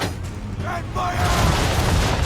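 Ship's cannon loosing chain shot during a naval battle in a video game: heavy booming blasts and rumbling gunfire swelling louder toward the end, with shouted voices over the din.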